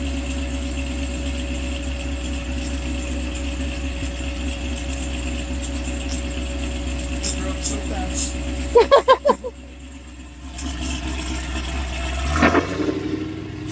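An LS6-powered car idles with a steady low exhaust rumble, then gives a quick series of revs before settling; a voice speaks briefly over it.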